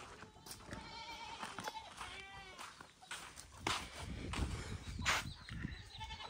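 Desi goats bleat repeatedly on a large goat farm in Jhargram, several wavering cries from nearby animals coming one after another over a background of outdoor farm noise.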